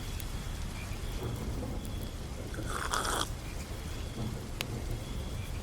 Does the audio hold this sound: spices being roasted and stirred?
no